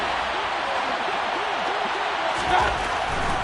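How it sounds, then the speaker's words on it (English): Stadium crowd noise in the Dome during an American football game, a steady loud roar with a brief swell, under a commentator's voice. "The crowd here in the Dome making things difficult."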